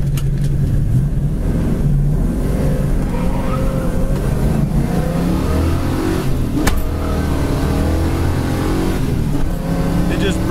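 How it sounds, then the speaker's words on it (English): A 1971 Ford Mustang Mach 1's 351 V8 with a four-speed revs hard and roars as it accelerates, breaking the tires loose in second, loud and close, with a rough throbbing rumble throughout. "Breaks the tires loose in second."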